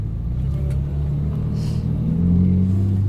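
A Ferrari 458 Speciale's engine hums low and steady from inside the car on a lap, a constant rumble that swells slightly toward the end, with no talk.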